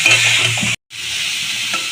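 Salted star fruit frying for a sweet-sour chutney gives a loud, steady sizzle. The sound cuts out for a moment, then resumes more softly as the pan is stirred, and no one speaks.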